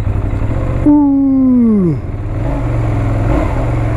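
A Benelli Leoncino 800 motorcycle's engine runs with a steady low rumble close by, while a man lets out a long falling exclamation over it.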